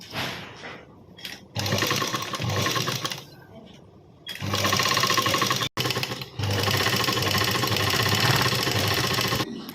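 A home sewing machine stitches a school lunch bag in loud, rapid bursts separated by short pauses, and a person talks between the runs.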